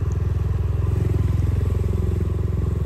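A motorcycle being ridden through town in Malta, its engine giving a steady, close, rhythmic low thrum with even pulses throughout and no talk.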